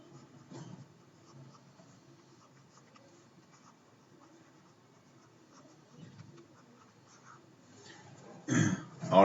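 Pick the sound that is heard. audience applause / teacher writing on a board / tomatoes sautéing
teacher writing on a board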